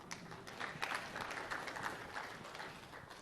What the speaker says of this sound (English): Now you can clap a little more loudly.